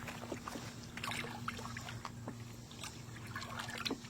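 Lye solution being stirred by hand in a cast iron cleaning tank, soft watery sloshing and trickling pulses at a steady rhythm, close by with a low background hum, no talking.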